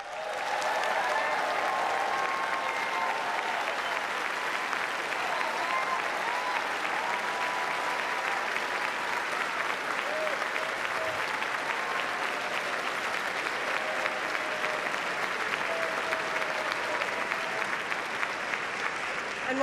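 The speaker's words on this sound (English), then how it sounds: "let's give them all a round of applause" A large audience at the White House Correspondents' Association Dinner applauds the students in a sustained, even round of clapping that fills the hall for about twenty seconds.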